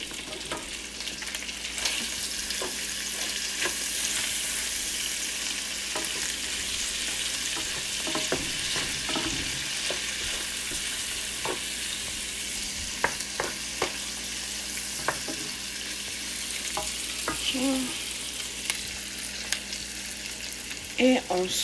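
Smoked turkey meat fries with mixed spices and herbs, a soft steady sizzle lasting throughout, dotted with light clicks and scrapes of stirring, with no voices.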